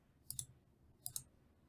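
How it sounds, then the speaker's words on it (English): Computer mouse clicking while working with the constrained linear dimension tool in Vectorworks 2023: two quick pairs of faint, sharp clicks about a second apart over a quiet background. "And then I just keep clicking down the row like I did before."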